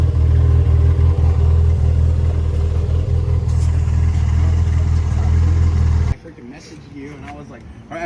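Toyota MR2 SW20 with a roughly 650 wheel-horsepower 5S-GTE engine (5S block, 3S head) runs loudly and steadily for about six seconds, then cuts out, leaving quieter background talk.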